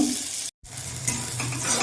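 Turmeric-coated eggplant frying in a pan of oil, a close, steady sizzle with a brief dropout and a soft scrape of stirring.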